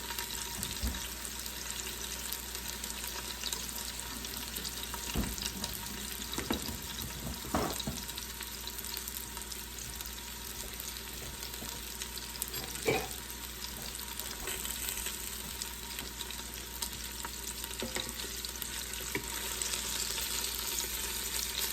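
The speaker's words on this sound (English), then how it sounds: "I'm going to let that saute." Steak bites saute in an Instant Pot, giving a steady, soft sizzle and frying hiss throughout with a few faint clicks of utensils, no talking.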